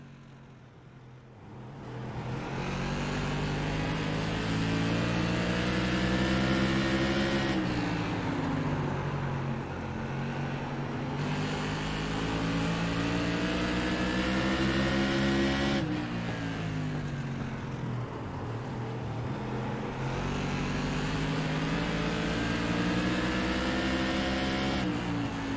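The on-board engine of the number 71 modified race car, driven by Brett Hahn, roars loudly through a lap at Irwindale, climbing in pitch along each straight and dropping off sharply three times as the car lifts for the corners.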